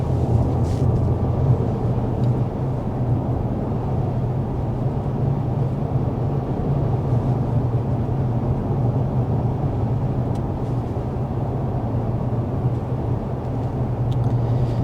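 Inside a 2024 Mercedes-Benz CLE 450 coupe cruising at 55 mph, a steady low road and tire rumble with soft wind hiss fills the cabin, even and continuous with no talking.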